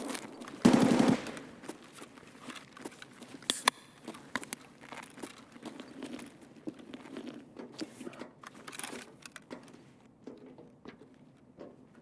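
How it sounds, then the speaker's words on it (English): Distant gunfire in the video game Escape From Tarkov, Interchange map, crackles in scattered bursts and single shots, faint and irregular, with one louder burst near the start. "We have to go there, to the gunfire"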